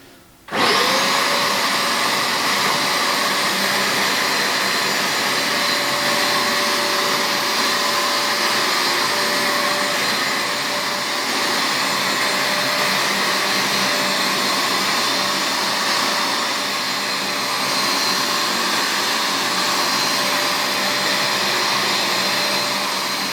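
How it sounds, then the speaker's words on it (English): A Bissell Lift Off carpet cleaner vacuums a carpet, sending out a loud, steady motor drone with a high whine that carries on without a break for the whole stretch and no voices over it. "I simply passed backwards and forwards slowly, letting the vacuum do its work"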